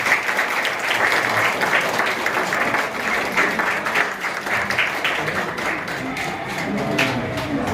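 Congregation at a prayer and healing crusade clapping loudly, a dense sustained round of applause from a large crowd that holds steady throughout.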